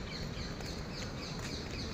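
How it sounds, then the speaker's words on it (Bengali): Assorted birds call faintly in a Bangalore park, with scattered chirps over a steady, loud wash of background noise. "তোমরা শুনতে পাচ্ছ নানান রকম পাখির আওয়াজ"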